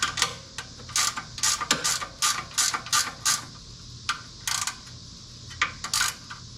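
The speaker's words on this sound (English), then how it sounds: "Once again, 2 bolts and a 1/2 inch wrench to tighten them up." Half-inch wrench tightening bolts on a 2021 Harley-Davidson Road Glide: a run of quick metallic ratcheting clicks and clinks in uneven bursts, close and fairly clear, with no talking.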